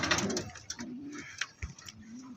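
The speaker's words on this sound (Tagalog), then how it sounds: "Ito yung ibon na umuwi ko" Racing pigeon back in its loft after a race from Calamba, Laguna, giving soft, low repeated coos in a few separate phrases, close and clear with no talking.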